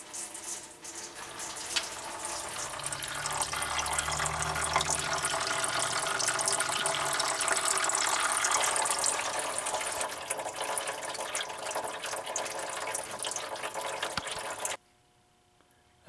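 Coolant pouring from a loosened Honda radiator drain plug: a steady close splashing, trickling flow of liquid lasting about fourteen seconds, then cutting off suddenly.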